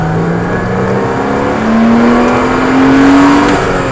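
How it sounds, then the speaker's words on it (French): Race car on a track accelerating hard after the clutch is released, a steady loud engine note climbing in pitch through the gear, close and continuous with no talk. "Et débraque et accélère"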